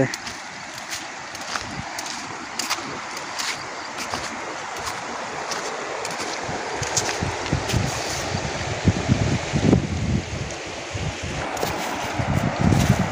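Rushing river water in flood, a broad steady wash with gusting wind buffeting the microphone and occasional louder surges toward the end.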